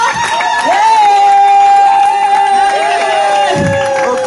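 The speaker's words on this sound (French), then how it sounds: "Acclamons encore pour les enfants." A church crowd at a Christmas service cheers and applauds for the children, a steady wash of voices and clapping with sung or shouted tones drifting over it. A voice calls out on top.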